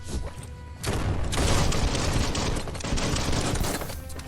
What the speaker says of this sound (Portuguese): Ih, ficou mais rápido o tiro.